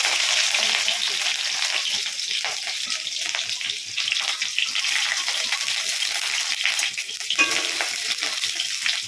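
Green chillies frying in hot oil with panch phoron give a steady, close sizzle and crackle. Occasional stirring scrapes sound through it, and no one speaks.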